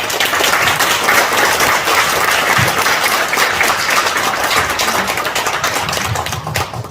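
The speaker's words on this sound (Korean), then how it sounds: "우리 교수님 나오실 때 우리 박수를 한번 환영해 주십시오" A lecture audience at a seniors' mission school claps to welcome a visiting professor, loud, dense, sustained applause from a roomful of people that tapers slightly at the end.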